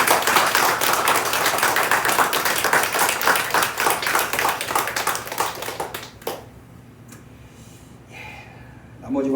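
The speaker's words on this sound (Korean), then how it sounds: "제가 전달할 때 한 번 더 박수해 주실까요?" A church congregation at a Sunday morning service claps together in sustained, dense applause, loud and lively, before it stops abruptly and a quieter room with faint sounds follows.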